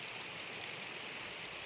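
Flowing water of the Cianten river beside a pedestrian bridge in Puraseda village, a steady close rushing stream with no voices.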